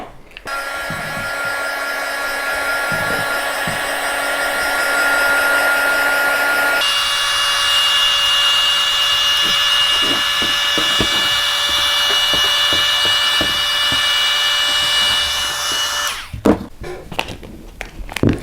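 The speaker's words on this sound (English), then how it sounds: "we're gonna take our heat gun and we are going to get this heated up and smoothed down" A heat gun blows steadily while heating and smoothing a tumbler, a loud continuous whine and airy roar that shifts pitch partway through, with light knocks and handling sounds before it shuts off.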